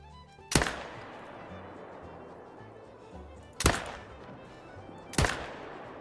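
Three hunting rifle shots ring out in The Hunter: Call of the Wild, each a sharp crack with a short decaying tail. The second shot comes about three seconds after the first, and the third follows quickly after that.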